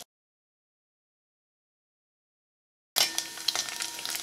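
Onions and coconut pieces frying in hot coconut oil for a dosa, a loud crackling sizzle that bursts in after about three seconds of silence and carries on with stirring noises to the end.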